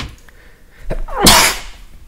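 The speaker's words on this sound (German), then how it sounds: "musste ich niesen" A single close, loud human sneeze, a short intake followed by a sharp noisy burst, heard alone.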